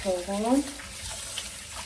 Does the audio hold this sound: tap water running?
yes